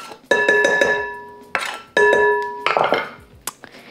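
Shrimp cake ingredients are stirred together in a bowl with a utensil, giving loud ringing clinks and scrapes in several quick bursts.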